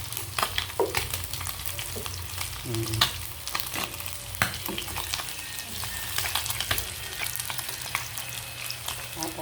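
Fish fries in a pan with a continuous sizzle, broken by crackling pops and occasional stirring clinks, heard up close with a brief spoken word.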